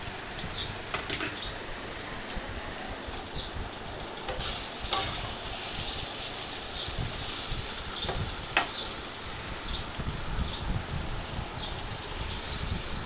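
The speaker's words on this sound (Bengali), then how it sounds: "একদিকে বড়া হচ্ছে আর একদিকে মাছের ঝোল হচ্ছে" Fritters (bora) frying on one gas burner while fish curry cooks on another: a steady, close hiss of sizzling oil runs throughout, with a few sharp clicks and clinks of utensils and no talking.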